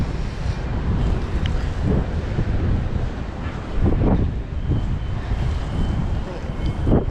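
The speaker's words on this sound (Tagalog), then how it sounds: "ang lakas ng hangin" Strong wind roars and buffets the microphone in gusts, with brief voices faintly mixed in.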